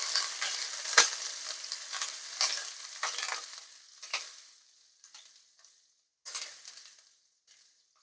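White onions hit a hot pan for a cabbage and carrot vegetable dish, a close crackling sizzle with stirring clatter that fades in and out, ending in short separate bursts.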